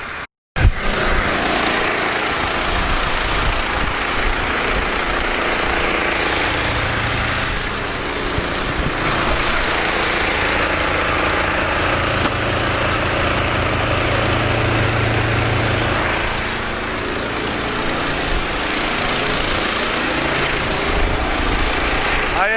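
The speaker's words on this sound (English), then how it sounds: "I am running a gas-powered compressor, so it's probably hard to hear." Gas-powered air compressor running loud and continuous throughout beside a John Deere 200D, its steady engine drone masking other work sounds.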